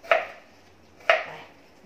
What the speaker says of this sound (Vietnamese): Củ cải mặn thì mình cắt lát vậy nè anh chị.